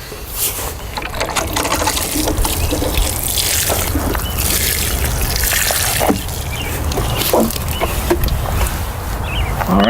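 Water pours steadily onto soil in a container pot of newly planted cilantro, a continuous close splashing and trickling with scattered drips, lasting throughout at a fairly loud, even level.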